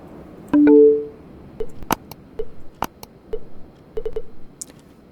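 Telephone keypad tones from the video game Scene Investigators, a string of short synthetic beeps of varying pitch pressed at an uneven pace, clear and close with no talking.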